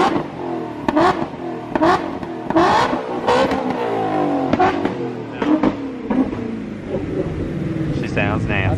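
A Ford Mustang GT350 revs hard on a chassis dyno, its engine rising and falling in repeated pulls, with sharp exhaust pops and crackles between bursts, loud and close.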